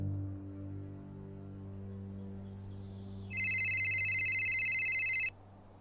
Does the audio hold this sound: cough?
no